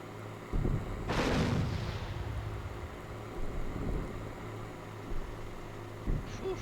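A tank cannon in the Steel Beasts Pro combat simulator fires one heavy, booming shot with a long rumbling tail, set against a low steady engine hum, with a couple of fainter thumps afterward.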